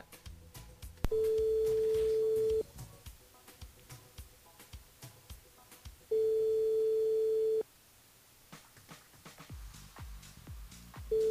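Telephone tones on a call line while a radio station rings a listener's mobile, two long steady beeps about a second and a half each with a pause between, over faint background clatter.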